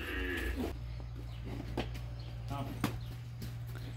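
Farm cattle sounds from a cow after evening milking on a rural smallholding, low bovine vocal tones and faint shuffling beneath a steady low hum, with some human voice at the start.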